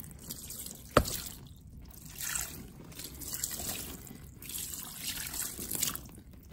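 Water poured and trickling over coffee grounds in an open compost bin, a faint continuous splashing and dribbling with one sharp knock near the start, quiet and close, with no talking.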